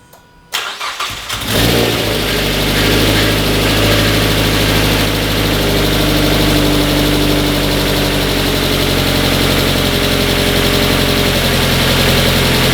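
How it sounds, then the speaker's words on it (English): A 2.5 engine with new injectors cranks and catches after a short moment on its first start after an engine swap, then settles into a steady, loud idle that runs on without a break. "so the engine runs"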